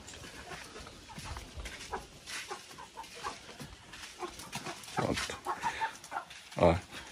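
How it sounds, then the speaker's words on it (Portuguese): Chickens on a rural farm plot cluck in scattered bursts close by, near building work on a porch, with background noise and occasional louder calls. "E as galinhas acompanhando aí, ó."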